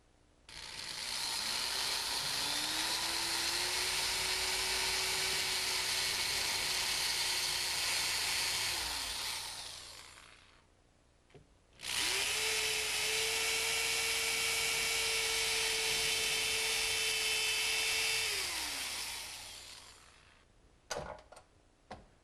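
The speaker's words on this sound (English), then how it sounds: "Now this house is older and these are real plaster walls, so we're going to use a masonry bit." A power drill with a masonry bit bores into a real plaster wall in an older house: two long, loud whining runs, each revving up, holding steady, then winding down, with a short pause between them and light clatter at the end.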